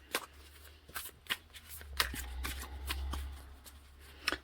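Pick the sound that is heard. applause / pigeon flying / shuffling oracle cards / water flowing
shuffling oracle cards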